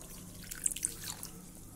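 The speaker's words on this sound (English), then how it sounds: "adding a 1/2 glass of water" Water is splashed into a pan where salted corned ox tongue is cooking, a brief burst of drips and small splashes that quickly settle, with no voices.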